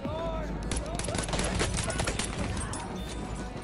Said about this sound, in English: Ooh, 2 for 4 with a pistol.